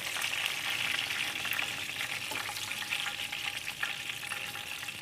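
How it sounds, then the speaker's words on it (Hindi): Chicken seekh kababs fry in a pan with a steady, close hiss of sizzling oil and scattered crackles and pops, continuous from start to finish with no speech. "अगर ज़्यादा फ्राई किए तो फिर ये बहुत ड्राई हो जाएंगे"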